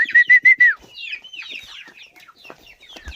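Free-roaming desi chickens on a Chhattisgarh farm cluck close by, opening with a run of loud rhythmic calls and trailing into softer scattered clucks and chirps, no talking.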